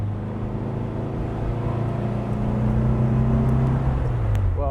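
A 1959 Porsche 356A Convertible D on the road, its engine droning steadily from inside the car with a low, even hum that swells slightly louder toward the end.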